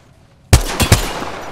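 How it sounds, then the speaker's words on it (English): Enemy gunfire in Apex Legends, a sudden burst of three or four sharp shots in quick succession, loud and close, with a ringing tail. "The enemies are shooting at me."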